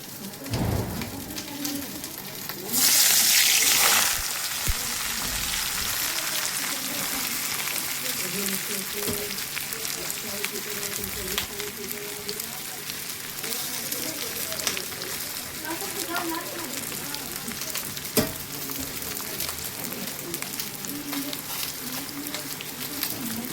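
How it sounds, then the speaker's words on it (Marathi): Stuffed brinjal and okra frying in oil and being stirred, with a constant sizzle, a sharp loud burst of hiss near the start, and someone talking over it. "आता ह्याला हलवून घेते मस्तपैकी ह्या पाच तेलात टाकलं"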